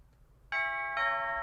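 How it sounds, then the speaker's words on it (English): An ordinary office doorbell chimes two clear tones in quick succession, a bright ding followed by a dong that rings on, loud and close after a quiet start. "That's just a regular doorbell"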